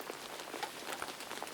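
Gentle forest rain patters steadily, a quiet wash of drops with faint scattered taps, unbroken and free of speech.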